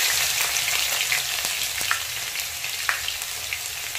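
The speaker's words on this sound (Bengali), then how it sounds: "দুটো শুকনো লঙ্কা ফোড়নে দিলাম আর অল্প কালো জিরে দিচ্ছি।" Two dried red chilies and a little nigella seed temper in hot oil for a Bengali dhekishak chorchori, a dense close sizzle broken by a few sharp crackles and pops, with no talking.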